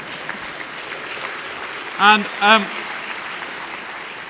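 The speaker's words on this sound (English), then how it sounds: "A round of applause for Margaret." Audience applause for Margaret, a scientist's wife, at a talk: a steady wash of clapping runs under the whole stretch while a voice speaks briefly over it.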